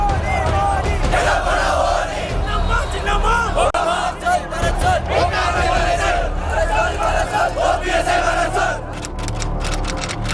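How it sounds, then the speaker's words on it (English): A large protest crowd chants and roars at Marina Beach in Chennai during the Jallikattu demonstrations, a loud, continuous mass of voices rising in rhythmic shouted waves. "the Jallikattu protests have started in Chennai as well"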